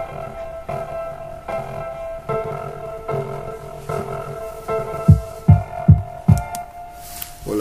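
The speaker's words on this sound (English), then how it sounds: "this is the kick" A kick drum in FL Studio thumps four times in a quick run near the end, low and punchy, after a steady humming pad with faint rhythmic pulses.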